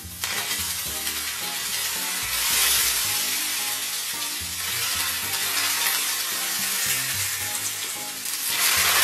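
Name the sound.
hot smoking oil poured over Sichuan boiled pork slices, sizzling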